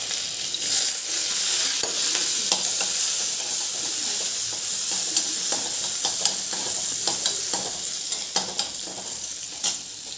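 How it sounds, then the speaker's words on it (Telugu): Garlic and chillies fry in oil in a kadai, giving a loud, continuous sizzle with scattered pops and crackles and occasional stirring scrapes, no voices. "కడాయిలో ఆయిల్ వేసుకుంటున్నానండి, గార్లిక్ ఇంకా చిల్లీస్ వేసుకుందాము"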